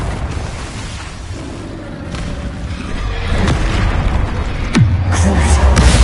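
Confringo fire spells exploding in Hogwarts Legacy combat on PS4, a series of booming blasts over a dense rumbling battle din, the loudest burst near the end and echoing off.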